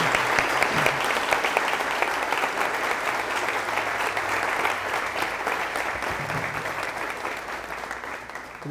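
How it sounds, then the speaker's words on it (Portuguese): A church congregation applauding right after a couple is declared married, steady dense clapping that fills the room continuously, moderately close, with little talk. "E vamos aplaudir o Senhor Jesus."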